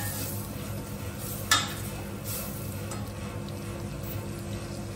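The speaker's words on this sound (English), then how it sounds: "then we're just going to add the stock until we get this lovely thick sticky rice" Sticky rice with stock is stirred in a hot pan, giving soft scraping and light sizzling. A sharp spoon-on-pan clink stands out near the start over an even kitchen hiss, close and moderately quiet, with no talking.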